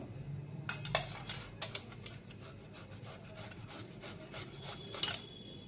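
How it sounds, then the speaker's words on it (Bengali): Boiled potatoes grated against a metal grater, steady rasping strokes with a few louder scrapes, close and fairly quiet, no voices. "এবার আমি আলুগুলোকে কুড়িয়ে নেব"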